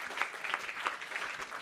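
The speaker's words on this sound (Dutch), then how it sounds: "Een liefst applaus" An audience at a live show applauds arriving guests, a short steady patter of many hands clapping at a moderate distance, fairly faint, with no talking over it.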